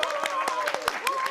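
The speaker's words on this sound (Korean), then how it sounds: "박수 한번 주세요." Brief scattered clapping from a small audience at a church Bible class, a few uneven claps over a soft voice rather than full applause.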